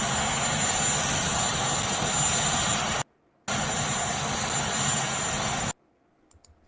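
Air Force One, the presidential jet, gives a loud, steady engine roar that fills the whole span, cut off twice by short breaks, with no voices.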